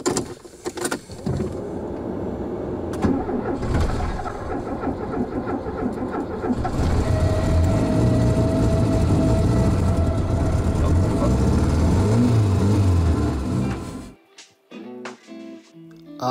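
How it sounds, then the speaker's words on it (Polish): Cold start of a BMW 2002 engine after two days standing: a rough cranking burst catches into a loud, steady idle that runs close by for several seconds, then cuts off into quieter clicks and movement. "I tym razem tutaj prawdziwy cold start Sieruni po dwóch dniach stania"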